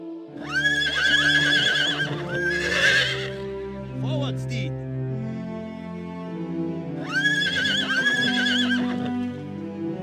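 Horses neigh in the Rising Kingdoms strategy game, two loud, shrill whinnies a few seconds apart with soft hoof clatter and game voices in between.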